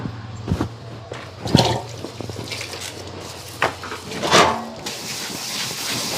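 Running water in a home kitchen while dishes are washed, gushing in uneven bursts with clatters and splashes, close and fairly loud, no talking.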